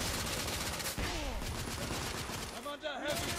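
Sustained bursts of gunfire from the third-person shooter The Order: 1886, dense and overlapping like a heavy firefight, with a short dip near the end before the shooting resumes.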